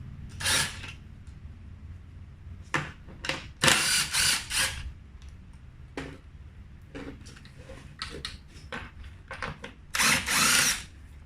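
Power tool undoing bolts on an all-terrain mobility scooter's CPU unit, with short sharp bursts of whirring rattling on and off, separated by quieter gaps with small clicks and handling noises, close by and without talk.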